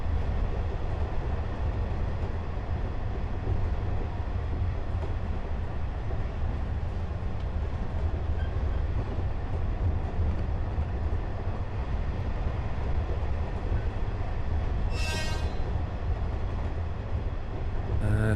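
Steady rumble of a train rolling along in the Running Train sim video game, a continuous low drone with a faint rhythmic rattle and one short high-pitched whistle-like tone near the end.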